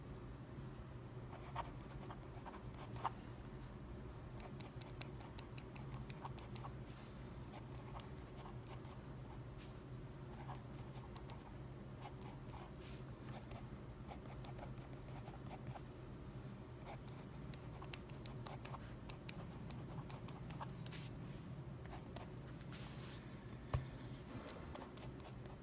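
A pen scratches steadily across paper while someone works through handwritten homework, with faint continuous scribbling and small ticks, quiet and close, with no talking.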